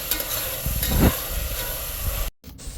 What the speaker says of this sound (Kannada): ಬಟಾಣಿ ಈಗ ಹಾಕಿರೋದ್ರಿಂದ ಒಂದೆರಡು ನಿಮಿಷ ಫ್ರೈ ಆಗಲಿ